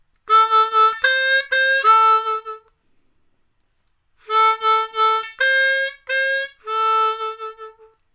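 A diatonic harmonica in D plays a blues line in two phrases of clear, bright held notes with a short silence between them, solo and with no talking.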